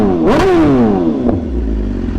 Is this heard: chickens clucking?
no